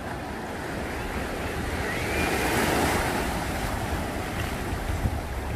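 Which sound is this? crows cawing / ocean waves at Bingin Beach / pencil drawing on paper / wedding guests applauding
ocean waves at Bingin Beach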